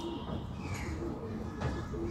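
A healthy pigeon coos in a low, steady murmur while courting before mating, the soft rolling calls close by over a constant background hum.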